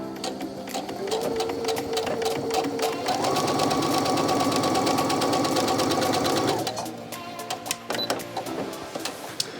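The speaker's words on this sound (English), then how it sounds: "you always start with the sides and you sew at an angle straight to the end" A sewing machine runs a dart on face mask fabric at a 3/8-inch seam, its rapid, even needle clatter humming up close in one long stretch before slowing and stopping.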